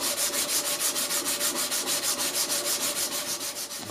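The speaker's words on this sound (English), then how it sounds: "keep on hand rubbing until that goes" A knife blade is hand sanded with fresh-grit abrasive after heat treatment, with quick, evenly paced back-and-forth rubbing strokes, about five per second, close and steady with no talking.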